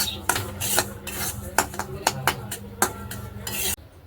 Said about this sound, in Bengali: ঘিয়ের মধ্যে হচ্ছে সুজিটা ভেজে নেব একদম ঝরঝরে করে ভেজে নেবো